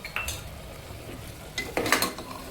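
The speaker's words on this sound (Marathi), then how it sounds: "सगळं मिश्रण असं हलवून या मस्तपैकी" Soaked moong and masoor dal mixture stirred in a pot with a spoon, soft scraping and a few clinks of metal against the vessel, close and moderately loud, with a louder burst of stirring near the end.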